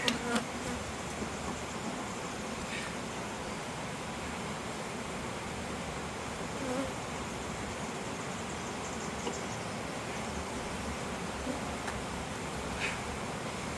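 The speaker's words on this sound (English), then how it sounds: "I got a bunch of bees floating around my head here" Honey bees buzzing around an open beehive during an inspection, a dense, continuous hum close by, with individual bees droning past now and then.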